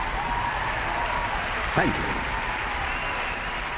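Executives applauding a scientist's speech in a film scene: steady, dense clapping from a room full of people fills the whole stretch, with a brief spoken word of thanks partway through.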